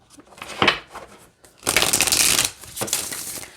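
Oracle cards being shuffled up close in a few quick riffling bursts with short pauses between them; no talking.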